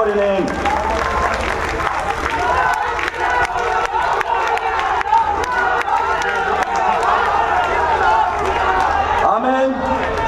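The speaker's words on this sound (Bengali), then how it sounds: "আপনারা সবাই তাকে করতালি দিয়ে বরণ করে নিন" A large crowd at the launch gathering of a political party's youth wing, National Youth Power, claps and cheers. Many hands clap in a steady roar with sharp individual claps and shouts rising above it, while voices carry throughout.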